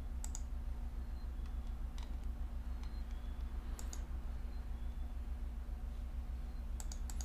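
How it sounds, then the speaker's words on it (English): Someone types steadily on a computer keyboard, with a run of close, crisp key clicks in irregular bursts over a constant low electrical hum, as if from a desk microphone. "We can start typing that up now,"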